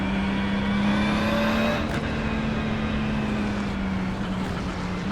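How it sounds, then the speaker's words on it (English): An emergency helicopter flies in overhead near a hospital, a steady droning hum with a slowly shifting rotor tone that stays loud and close throughout, without talk. "Sounds like the emergency helicopter coming in."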